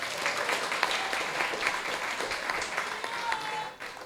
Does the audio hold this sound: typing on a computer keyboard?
no